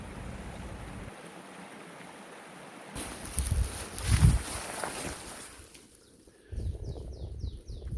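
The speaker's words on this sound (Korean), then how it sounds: "시원한 물소리 들으면서 함께 출발하시죠." Cool mountain stream in a high-altitude area of Gangwon Province, Korea, flowing steadily as a soft continuous rush, swelling briefly louder midway, with faint birdsong near the end.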